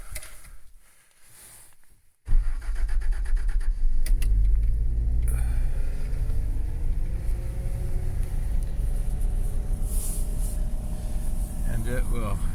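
A cold 1985 Toyota FJ60 engine with the choke pulled nearly all the way out cranks briefly and catches, then settles into a loud, steady, rough idle close by. A person talks over it.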